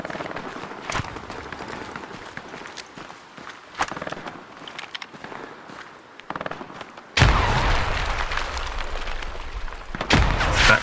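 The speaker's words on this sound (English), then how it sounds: "I'm gonna chuck a nade." A grenade goes off in a World War II style multiplayer shooter: footsteps and scattered thumps lead to a sudden loud blast and a sustained roar of debris and gunfire, with players' voices nearby.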